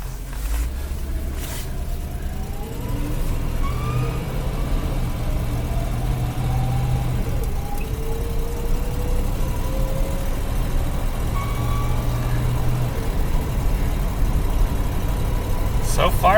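A 1956 Cadillac Sedan Deville driving, its engine a steady low rumble inside the cabin with gentle rises in pitch as it gathers speed, continuous and fairly loud.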